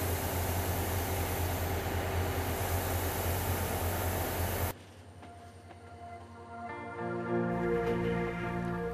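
Trains on the Jeolla railway line make a steady, loud rumble with broadband rail noise, which cuts to a quieter hum partway through before tonal, whistle-like sounds rise near the end.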